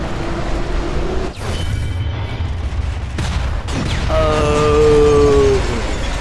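Loud booming blasts and crashing explosions in the video game Sniper Elite V2, with a sharp bang near the start and a rumbling roar building toward the end.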